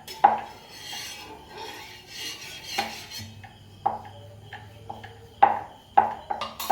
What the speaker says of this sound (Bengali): তেলটা আমি ভালো করে তাওয়ার মধ্যে আমি মাখিয়ে নেব।